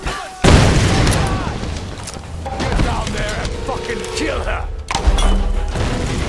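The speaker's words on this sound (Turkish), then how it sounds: "Eyvah eyvah el bombası" A grenade blast in Tomb Raider 2013 gameplay, a loud booming thud at the start followed by gunfire, clatter and a second heavy hit later, with someone talking excitedly over it.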